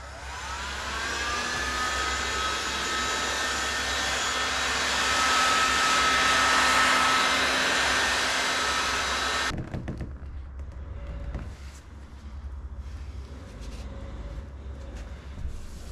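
A heat gun warming protective film on the hull of a Slayer Max 12.5 kayak: a loud, steady blowing roar that holds for about nine seconds, then cuts off, leaving quieter handling noises close by.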